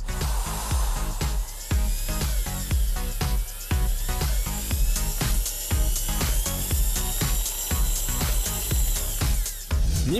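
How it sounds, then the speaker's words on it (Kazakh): A power drill spins a toothbrush head for cleaning, a continuous high whine with rhythmic scrubbing pulses repeating roughly every half second, loud and close throughout. "Енді щетканы бұрғыңызға орнатып, кез келген тазалық жұмысына қолдансаңыз болады."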